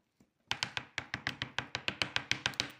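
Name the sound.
tapping on an ant farm enclosure to stir the ants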